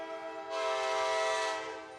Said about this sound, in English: And the train coming through.